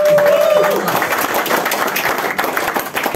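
Applause from an audience at a company meeting in Semarang, a dense burst of clapping that stays steady for a few seconds and tapers slightly, with a voice over the start.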